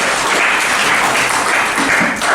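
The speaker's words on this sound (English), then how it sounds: "So maybe a round of applause to the presenters as they go through" Dense, loud applause from an audience at an alumni panel event, a continuous wash of many hands clapping for presenters without pause.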